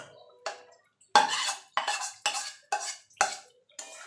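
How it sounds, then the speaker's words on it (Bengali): Cauliflower and potato curry with spices stirred in a pan, about seven loud, close scraping strokes with brief pauses between them and no talk. "এবার ফুলকপি আলুটা মশলার সঙ্গে ভালো করে মিশিয়ে নেব।"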